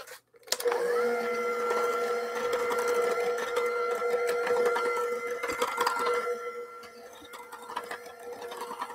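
An electric mixer whirs through brownie batter of flour and salt, a steady close motor whine that starts abruptly and runs throughout, easing slightly near the end.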